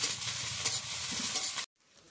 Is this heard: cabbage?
yes